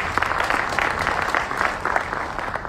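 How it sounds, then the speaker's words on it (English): Audience clapping at a foundation day lecture, a dense, even wash of applause lasting a few seconds, fairly loud and without talk. "Please, let's give him another round of applause."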